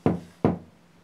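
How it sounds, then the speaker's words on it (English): Two loud, close knocks on a hard surface about half a second apart, each with a dull resonant thud, during a paranormal investigation at the 30 East Drive house. "can you knock like this twice"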